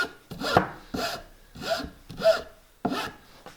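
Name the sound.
hand file smoothing frayed ends of wooden board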